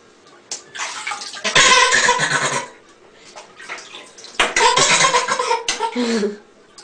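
A pitcher is dipped into water, sloshing and pouring in two separate bursts, each lasting about a second or two, loud and close, with quieter gaps and faint sounds between them.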